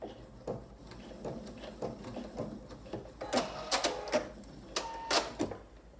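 A sewing machine back-stitches at the corner of a flannel receiving blanket with short stop-start bursts of needle clatter and a few sharper clicks, close and fairly quiet, with no talk.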